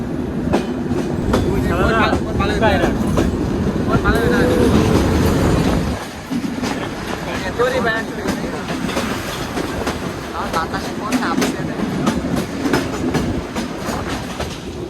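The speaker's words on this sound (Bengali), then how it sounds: "দেখুন আরো একটা ট্রেন আসতেছে" A slow local passenger train passes on tracks in Bangladesh with loud, close rumbling and rhythmic wheel clatter that carries on throughout, easing briefly partway through, while faint voices sound in the background.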